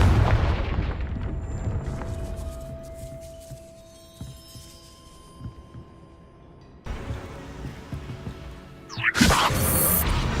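A Confringo blasting spell in Hogwarts Legacy sets off a sharp, bright explosive burst near the end, following a low rumbling boom and quieter ambient hum.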